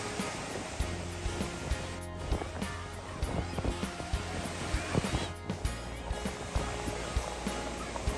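Surf rolls onto the quiet, clean white-sand shore of Nandgaon beach at Murud-Janjira, a steady, full wash of waves with wind rumble underneath and scattered soft knocks throughout.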